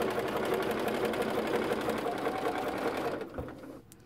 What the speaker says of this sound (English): the sewing machine is trying to sew a stitch